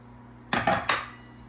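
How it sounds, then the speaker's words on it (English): A spoon scrapes and clanks against a bowl while meat is mixed into a cheese mixture, three quick close metallic knocks in a row, then quiet. "We're gonna mix this in really good."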